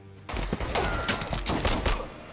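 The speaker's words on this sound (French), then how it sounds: "Cassian attaque John, menant à une intense fusillade." Intense movie gunfight with dense, loud bursts of rapid gunfire and fusillade crackle, continuous and close after a brief quiet start.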